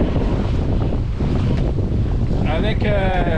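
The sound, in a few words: wind on a sailboat at sea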